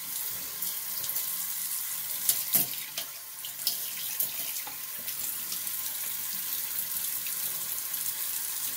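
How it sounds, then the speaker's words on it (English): Running tap water splashes steadily into a sink as a face is rinsed after shaving, a close, continuous hiss with small splashes and knocks, no talk. "so we're gonna rinse off and I'm gonna do some of my little touch-ups right here"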